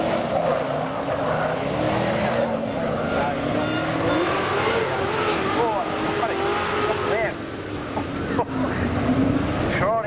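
Saloon race cars accelerate hard off the start out of a turn, engines roaring continuously with tires scrabbling for traction, loud and close under steady race commentary.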